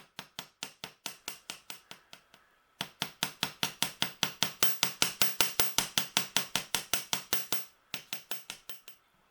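Rapid, steady metallic hammer blows on wire against an anvil ring out in a long rhythmic series, with a brief pause early on and another near the end, close and sharp.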